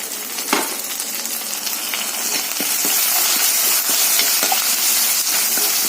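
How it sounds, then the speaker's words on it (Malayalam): Green chillies and curry leaves dropped into hot oil, a loud continuous sizzle and hiss with scattered crackles and light stirring clinks, growing slightly stronger as it goes on, without speech. "നമുക്കിനി അതിലേക്ക് പച്ചമുളക് ഇട്ട് കൊടുക്കാം കൂടെ കറിവേപ്പില ഇട്ട് കൊടുക്കാം"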